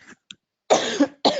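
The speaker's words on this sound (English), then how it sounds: "I can feel a little coughing attack come on" Sudden bursts of coughing from one person, a brief throat sound followed by two harsh, close coughs in quick succession.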